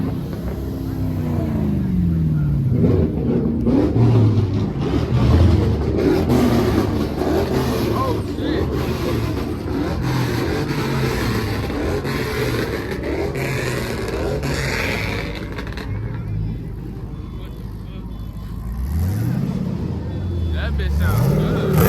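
Chevy car engine at a chaotic car meet, revving with rising and falling pitch sweeps as it shifts gears, loud and close amid crowd noise and people talking throughout.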